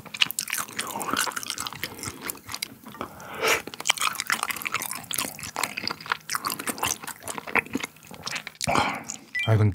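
Someone chews grilled Korean beef intestines, beef heart and brisket with chives close to the mic, making wet, squishy bites and soft crunches in an irregular rhythm.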